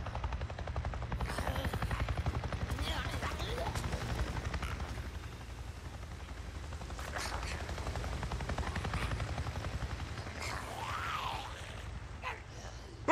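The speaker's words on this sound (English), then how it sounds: "A Nero chopper! It just buzzed right over me." Nero helicopter from the video game Days Gone passing overhead, a loud continuous rhythmic rotor chop filling the whole stretch, with a voice speaking briefly over it.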